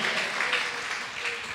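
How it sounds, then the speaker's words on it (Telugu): A church congregation claps loudly together at a Telugu Christian service. The applause is dense and sustained, close and filling the space, with voices mixed into it. "బిగ్గరగా చప్పట్లు కొడుతూ ఏసయ్య అని చెప్పండి"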